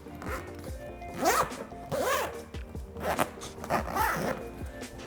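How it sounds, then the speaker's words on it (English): A HOTTAP Essentials carry bag being zipped shut, several quick rasping zipper pulls in close succession, near and clear, with no talking. "from there we can just zip it all up"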